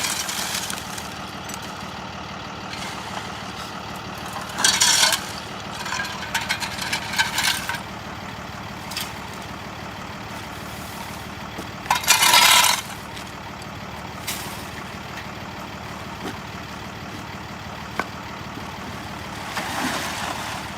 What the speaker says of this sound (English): Both tow trucks have arrived and they are going to be in the process of removing the vehicles.